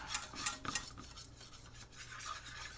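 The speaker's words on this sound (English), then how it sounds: "we already got a little bit of sizzling happening here" A utensil scrapes and stirs gravy in a pan close up, with soft crackling from flour sizzling in hot fat underneath the stirring.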